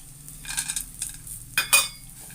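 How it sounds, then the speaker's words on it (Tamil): Roasted peanuts and fried gram being tossed with spices in a pan for spicy puffed rice, a few short rustling stirs and clinks, close and fairly quiet with soft background hum. "எல்லாத்தையும் நல்லா மிக்ஸ் பண்ணி விட்டுடுங்க."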